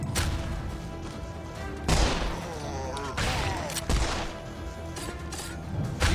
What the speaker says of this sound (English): These guys literally explode when they die.